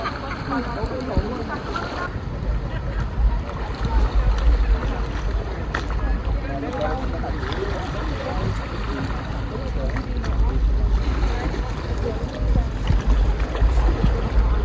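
A boat motor drones steadily over the sea at Puerto Galera, mixed with wind buffeting the microphone and the splash of waves throughout.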